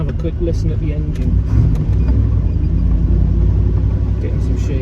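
A Jensen Healey V8 engine idles with a steady, loud low rumble, continuous and close, with faint knocks and ticks above it.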